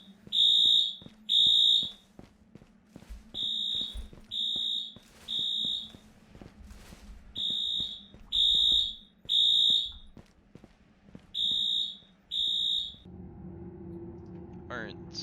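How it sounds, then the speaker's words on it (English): A fire alarm in the zombie survival game Dead Matter blares in a steady pattern of paired electronic beeps, loud and repeated many times, with brief talk and game noise between the bursts. "Fire alarm."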